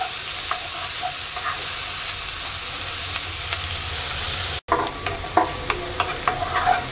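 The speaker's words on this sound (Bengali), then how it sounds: "পেঁয়াজটা হালকা ভেজে নেব।" Chopped onion frying in a pan for a hilsa fish curry, a loud continuous hiss of oil with occasional spatula scrapes, briefly cut then resuming with sharper stirring clatter.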